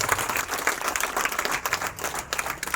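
An audience at an RCM mega event in Haripad claps in welcome to new members, a moderate spread of steady applause heard from some distance in a hall.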